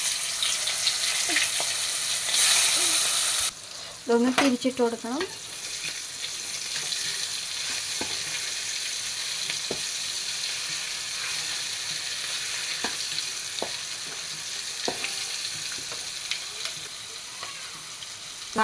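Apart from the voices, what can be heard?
sardine fish frying in oil with curry leaves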